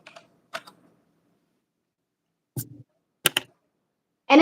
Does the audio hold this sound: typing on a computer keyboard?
yes